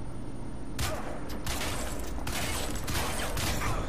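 Assault rifle fire from the Crysis 3 multiplayer game, a run of separate loud gunshot bursts that come roughly every half second over a steady mechanical game ambience, with no voice.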